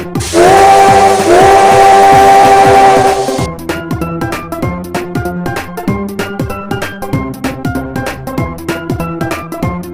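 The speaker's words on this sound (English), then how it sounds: "Spirit Train blows his whistle loudly and proudly, showing off the sound that he can make" A loud, sustained steam whistle blows for about three seconds, then gives way to rhythmic, clanking train-like music with steady percussive beats.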